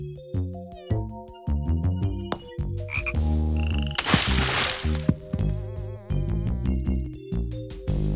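A frog croaks in the PC mini-golf game 3D Ultra Mini-Golf Deluxe, loud rhythmic repeated croaks mixed with buzzing insect sounds and game effects.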